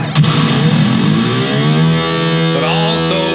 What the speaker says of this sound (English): If you don't have that artificial harmonic when you reach for it and it doesn't scream out, you don't have enough mids